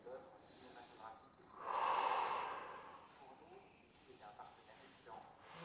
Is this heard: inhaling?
yes